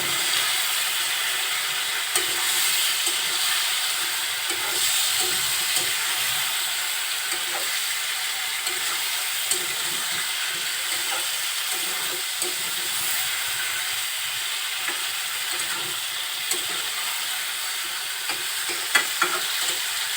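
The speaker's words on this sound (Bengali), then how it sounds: "মশলাগুলো সব একসাথে কষিয়ে নিচ্ছে।" Spices for a Bengali fish-and-bottle-gourd curry fry and sizzle steadily in a pan while being stirred, a continuous close hiss with occasional scraping clinks and no talk.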